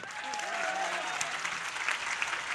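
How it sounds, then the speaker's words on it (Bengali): A crowd at a BNP political rally in Kamrangirchar claps in sustained, dense applause that stays loud and steady throughout, with faint voices mixed underneath. "একটু হাততালি দেন"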